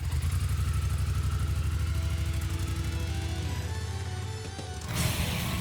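A Triumph Thunderbird's parallel-twin engine throbs steadily at a low, even idle, close and loud, before a brief blip of throttle near the end.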